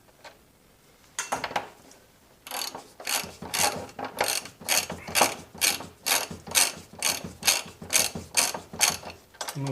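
A ratchet loosens the 22mm front axle nut on a Honda Goldwing motorcycle, starting with a few hesitant clicks, then a steady run of loud, close, rhythmic ratcheting strokes.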